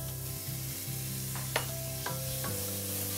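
Diced red pepper, onion and chilli sizzle in a pan as a paste, with steady frying hiss under several sharp scrapes and clinks of stirring, close and fairly loud.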